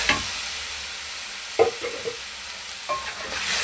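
Freshly ground garlic and green chilli paste is stirred into a simmering tomato curry, a soft continuous sizzle broken by a few scraping spoon strokes against the pot, close and without speech.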